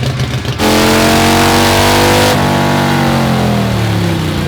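A Harley-Davidson Iron motorcycle on a dyno: after a brief quiet start, the V-twin engine roars up in a loud, steady rev climb with rising harmonics, drops briefly, then keeps pulling hard and close until the end.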